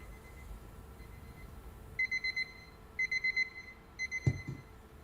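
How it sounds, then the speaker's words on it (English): An alarm clock rings inside a jar with the lid on, heard as faint, muffled bursts of rapid beeps in groups of four, repeating about once a second, followed by a brief thud. "Alarm clock. Alarm. Will you still hear it?"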